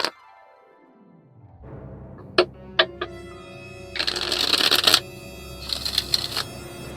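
Oracle cards shuffled and drawn from a deck: a few sharp card taps and flicks, then two bursts of brisk riffling shuffles, close and fairly quiet, with no voices.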